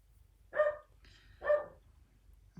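Oscar, a pet dog indoors, gives two sharp, moderately loud barks about a second apart, with the start of a third at the end, aimed at people passing by outside.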